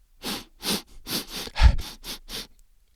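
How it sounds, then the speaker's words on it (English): A long sniff taken while bending over to smell flowers, drawn in as a series of short breathy inhalation pulses, close and fairly loud, with no talk. "So Ollie bent over and took a long sniff."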